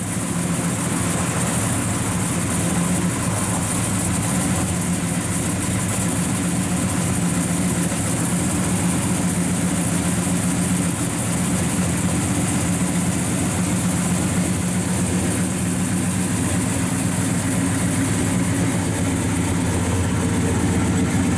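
A 1966 Chevrolet Chevelle SS 396 with a performance cam idles steadily, a constant close engine rumble with no revving and no talk over it.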